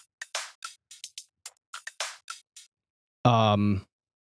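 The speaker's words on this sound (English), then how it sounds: "And the electro loop sounds like this." An electronic drum loop with a string of short, punchy hits, then a sustained buzzy synth tone near the end.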